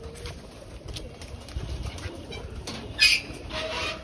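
Pigeons on a rooftop garden terrace coo softly. A brief flutter of wings stands out near the end against a faint, hissy outdoor background.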